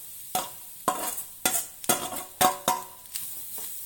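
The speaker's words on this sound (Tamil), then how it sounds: "தேங்காயை நல்லா வதக்கிக்க." Grated coconut is sautéed in a pan, with a spoon scraping and stirring in about seven distinct rhythmic strokes over a soft background sizzle, close and clear with no talking.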